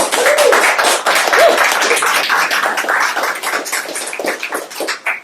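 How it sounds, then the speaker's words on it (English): A live sitcom reading audience claps and applauds steadily for several seconds, dense and fairly loud, tapering slightly toward the end. "I just want to give them a round of applause."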